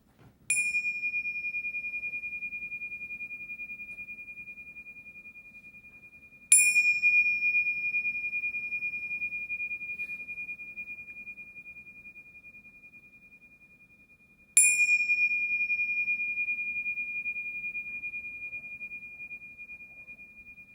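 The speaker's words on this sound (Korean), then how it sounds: "종을 3번 칩니다. 3번 치면 종 끝까지 들으시고 눈을 뜨면 됩니다" A meditation bell is struck three times at slow, even intervals, each clear ringing tone sustaining and fading gradually until the next strike.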